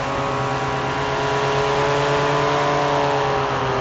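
A Polini 202 paramotor engine on an Iris Infinity runs under throttle, a loud, steady, close droning buzz that holds an even pitch throughout.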